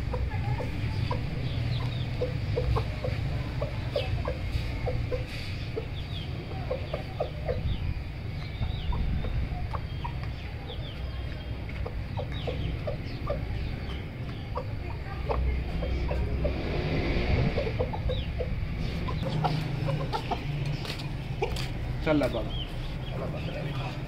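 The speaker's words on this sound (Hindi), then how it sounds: "हमारे जो मुर्गा और मुर्गी हैं ये दाना वगैरह खा रहे हैं और पानी भी पी रहे हैं" Chickens cluck and peck at feed in short scattered bursts throughout, with low farmyard rumble and a voice in the background.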